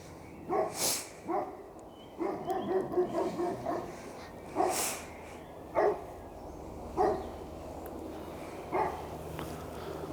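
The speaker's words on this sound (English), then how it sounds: "We've set a doggy off." A dog barks repeatedly at a moderate distance near a graveyard, sharp single barks and short bursts spaced irregularly over quiet outdoor background.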